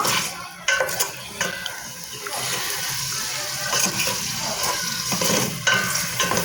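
Chopped onion sizzles steadily in oil in a pan, close and loud, with stirring scrapes and the occasional clink of a utensil against the pan.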